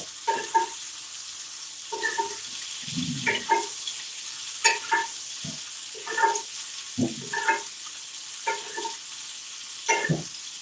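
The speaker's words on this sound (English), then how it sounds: "Now to butter baste them" Meat frying in a pan while being basted with butter, soft sizzling and bursts of spitting and spooning sounds recurring every second or so, close and fairly quiet, with no talk.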